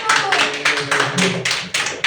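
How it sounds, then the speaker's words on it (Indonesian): A classroom group claps in rhythmic bursts, sharp hand claps repeating about every half second, close and fairly loud, with voices murmuring underneath. "tepuk tangan kelompok"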